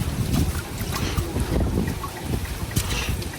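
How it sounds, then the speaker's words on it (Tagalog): Steady gusting wind at a fishpond buffets the microphone with low rumbling roars, continuous throughout, over a faint watery wash in the background. "Mahangin po."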